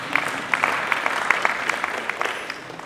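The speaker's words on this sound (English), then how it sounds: "you can clap for him if you choose" A colloquium audience in a Lagos hotel applauds a speaker with steady, dense clapping that stays fairly close and even, with no voices over it.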